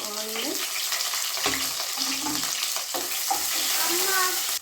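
Onions frying in a pan for street-style fried rice, a loud steady sizzle broken by scraping stirs and clatters, with a faint voice murmuring underneath at moments.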